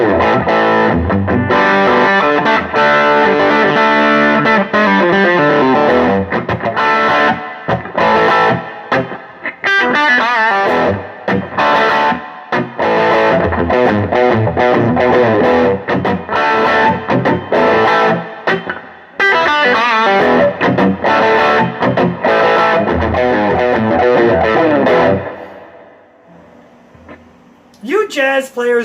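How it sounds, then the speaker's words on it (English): An IYV IJZ-300 jazz guitar played through heavy distortion in a rock style, thick driven chords and riffs with brief pauses, loud and close, fading out near the end. "How can a jazz guitar sound like this for rock?"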